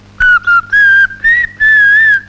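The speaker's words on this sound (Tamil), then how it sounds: "விசில் வேற அடிக்கிறியா?" A person whistles a short, bright tune at close range in a Tamil film scene, five quick phrases separated by brief gaps, with no talking over it.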